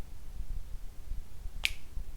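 A single sharp finger snap rings out once near the end, crisp and close, against a quiet room murmur at a church worship service.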